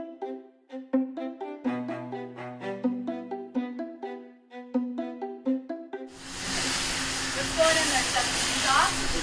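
Loud, steady broadband sizzle of meat searing in a hot restaurant pan takes over partway through, preceded by plucked, rhythmic music; kitchen bustle sits beneath.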